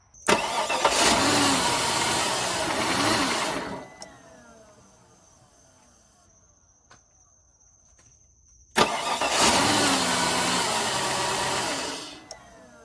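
A flooded 2004 Cadillac DTS convertible's engine roars loudly for about four seconds, cuts to near silence with faint ticks, then roars again at full volume.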